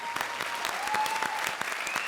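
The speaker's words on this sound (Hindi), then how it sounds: "एक बार फिर से जोरदार तालियां।" A stand-up comedy audience claps enthusiastically, a steady dense burst of applause lasting a couple of seconds with no voices over it.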